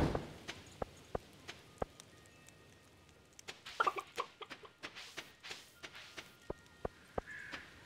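Chickens cluck in the Stardew Valley video game, a series of short, sharp clucks and pecking ticks scattered irregularly at moderate volume, with a busier cluster midway and no speech.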